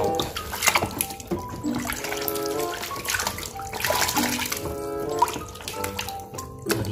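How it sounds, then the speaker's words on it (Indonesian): Running water splashes and trickles steadily while washing mud off a toy police car, close and continuous, with some dripping and sloshing throughout. "sekarang langsung aja kita bersihkan mobilnya"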